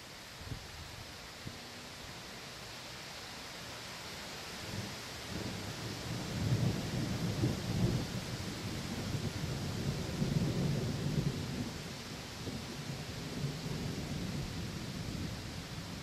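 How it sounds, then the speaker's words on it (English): A windy night thunderstorm in Fargo: steady rain hiss fills the background while low rolling thunder swells in the middle and rumbles again later, distant and sustained rather than sharp. "You know how Fargo is with the thunder and lightning now."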